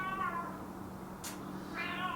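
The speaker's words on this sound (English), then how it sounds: "Meow." A cat meows during a home legs-and-back workout, giving two short, faint meows a moment apart over a steady background hum, with no talk.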